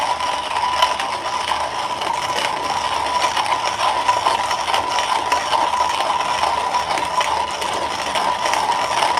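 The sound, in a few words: Comandante hand coffee grinder grinding beans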